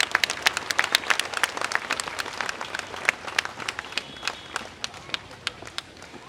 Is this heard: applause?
yes